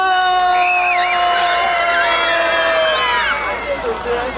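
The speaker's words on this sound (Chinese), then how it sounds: "好，让我们掌声欢迎阿奇幼儿园星星哥哥和月亮姐姐尖叫声。" A crowd of mostly children screams and shouts with high, wavering voices in front of a stage show at the 2022 Taipei Lantern Festival in Shilin, welcoming kindergarten hosts. The cheering is loud and continuous, then tapers near the end.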